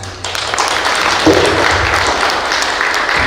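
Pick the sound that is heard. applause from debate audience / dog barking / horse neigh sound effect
applause from debate audience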